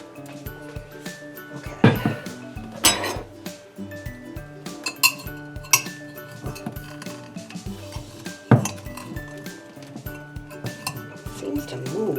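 A knife scrapes and taps against a pot while prying a budding house plant loose during repotting, making irregular clinks and sharp knocks with a few louder strikes. A voice talks quietly in between.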